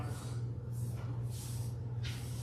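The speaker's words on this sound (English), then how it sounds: "This is a leave-in conditioner and a detangling spray, and we'll just spray this over his whole body." Several soft hissing bursts of leave-in conditioner and detangling spray misted over an Aussie mix puppy's coat, close and quiet, in short repeated pumps.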